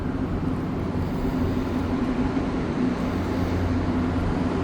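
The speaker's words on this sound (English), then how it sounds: "we have an AZUR train coming now," A steady low rumble of an AZUR metro train in Montreal rolling past at moderate distance, continuous and even with no voices.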